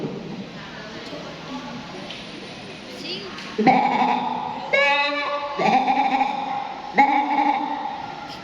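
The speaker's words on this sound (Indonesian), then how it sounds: "coba kalian tebak, si Ucup ini menggembala apa ya? Ya betul, Ucup adalah penggembala domba" Sheep bleating in several loud, wavering calls that come one after another in the second half, over a quieter background with faint earlier sounds.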